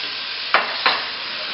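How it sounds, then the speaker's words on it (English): Diced sweet potatoes stirred into a sizzling vegetable curry pot, with a steady frying hiss underneath and two distinct scraping stir strokes close by, no talking. "Stir this around."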